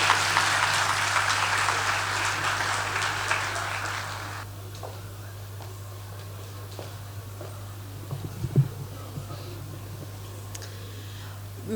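An audience applauds warmly at a DELF B1 and B2 diploma ceremony in Mountazah. The dense clapping fills the first four or so seconds, then cuts off, leaving a quiet room with a low steady hum and a few scattered small knocks.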